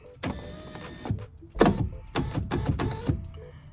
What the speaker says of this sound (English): We're going to lower the window now so we can see the screws.